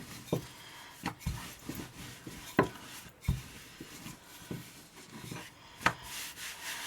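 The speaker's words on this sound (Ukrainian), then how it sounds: "Одну булочку обминаємо в мочиці і починаємо його розкочувати." Dough for pumpkin placinta is rolled out on a lightly floured surface. Soft rubbing passes come with scattered dull thumps and knocks, close by, at an uneven pace, with no talking.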